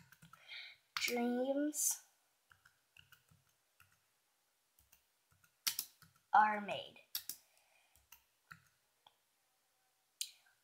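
Scattered keyboard clicks and taps tick away quietly, interrupted by short bursts of speech.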